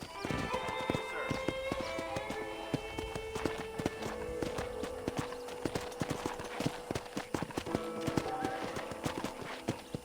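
Horse hooves clip-clop steadily and briskly while riding in the Red Dead Redemption video game. The hoofbeats are accompanied by a layer of game music and an occasional whinny.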